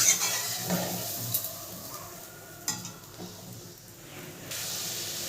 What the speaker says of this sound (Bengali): নারকেলের দুধটা আমরা দিয়ে দিলাম